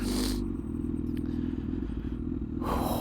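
A custom Honda CBR1000RR sportbike is ridden at speed, its engine droning steadily under heavy wind rush and clatter, louder at the start and end.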